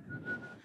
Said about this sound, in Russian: Во-первых, я умею очень круто свистеть.